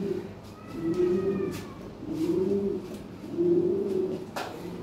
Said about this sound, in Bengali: এর টপ কোয়ালিটি কবুতর, একদম নিখুঁত